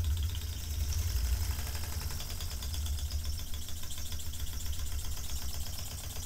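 Empire B-42 double boiler toy steam engine running on only one side, giving a steady fast mechanical chuffing and rattle with a low rumble, close and even throughout with no talking.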